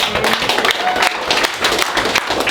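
A small crowd claps and cheers for a skateboarder at a kickflip contest, the rapid uneven claps loud and close with voices mixed in throughout.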